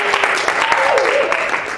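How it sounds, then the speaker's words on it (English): Dense, steady clapping from a crowd, a continuous wash of applause with a voice faintly audible underneath. "give a round of applause"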